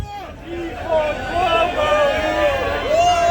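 A large rally crowd in New York chatters and calls out, a continuous wash of overlapping voices with individual shouts rising and falling close by.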